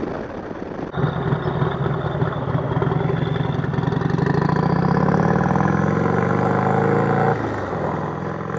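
A turbocharged 131ci Harley Street Glide Special runs close by, its deep, loud engine note rising steadily as revs build with turbo whine on top, then dropping back near the end.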